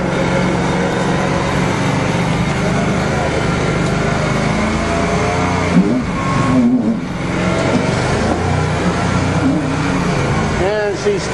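The engine of a 427 dump truck stuck in mud revs hard and continuously, a loud, close, straining drone with slight rises and dips in pitch, while voices are faintly mixed in.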